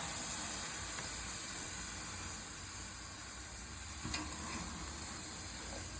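Chicken thighs crisping on a hot cooking surface for a 4th of July cookout, a faint, steady sizzling hiss running evenly throughout with no talk.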